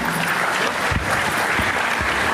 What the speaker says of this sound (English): I request you all to give a big round of applause to Mr. Vinay.